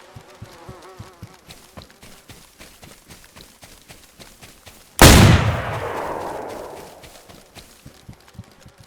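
A single loud gunshot in the video game DeadbyZed rings out midway and decays over a few seconds, following a steady rapid ticking and clicking of game sounds.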